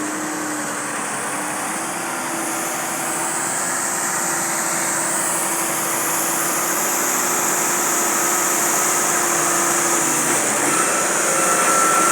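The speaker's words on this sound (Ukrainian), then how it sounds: "Там трактор у нас з піском." A tractor loaded with sand drones steadily and loudly throughout, a constant mechanical hum with a high whine and no talking.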